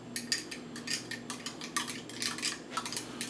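A utensil stirs yeast into a glass of water while preparing blueberry wine, giving a quick, uneven series of bright, close clinks and scrapes against the glass.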